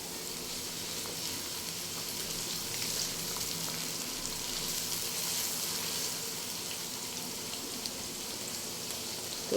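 Minced keema fries in hot ghee with garlic-ginger paste, a steady dense sizzle holding evenly throughout without pause at moderate level.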